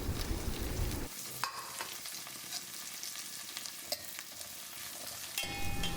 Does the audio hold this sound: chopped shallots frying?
yes